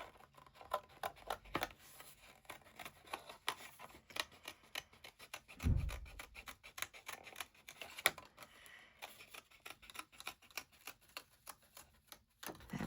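Scissors snip through a paper stencil in quick, irregular runs of crisp cuts, close and faint, with a brief rustle of paper midway.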